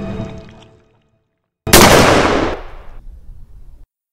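A single loud gunshot bursts out in the pixel art horror game Días Felices after a moment of near silence, then decays in a long rumbling echo over about a second.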